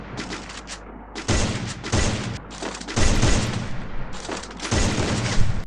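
Sniper fire in the Free Fire mobile battle royale game, several loud cracking shots in separate bursts with booming tails, spaced about a second or more apart.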